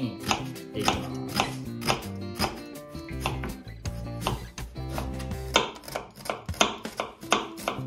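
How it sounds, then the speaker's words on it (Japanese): Knife chopping an onion into small lentil-sized pieces on a cutting board, rapid steady taps close by and fairly loud, with a brief pause midway before the rhythm resumes, over soft background music. "玉ねぎも大体レンズ豆と同じぐらいの大きさに切っていきます。"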